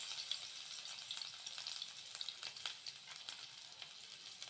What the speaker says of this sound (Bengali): দিয়ে আমি ভাজা ভাজা করে নেব